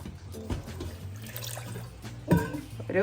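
Water splashes and trickles into a thick potato masala curry in a Kerala-style kitchen, with a brief gurgling pour near the end over low background hum.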